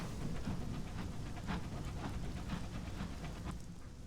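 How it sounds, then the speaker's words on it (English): Steady rain hisses throughout in the Sunless Skies video game, a dense, even wash with a low rumble underneath that could be distant thunder, heard alone without voices. "Sounds like rain."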